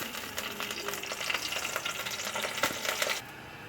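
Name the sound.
dried red chillies frying in hot oil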